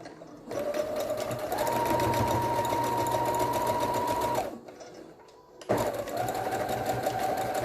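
A sewing machine stitches a fabric face mask with a 1 cm seam, a close steady motor whir that runs for several seconds, pauses briefly, then starts up again.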